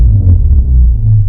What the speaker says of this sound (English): go into these layered boom effects